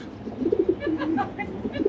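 Pet pigeons coo in a series of soft, low, rounded calls close by, repeating in a steady rhythm over faint background noise.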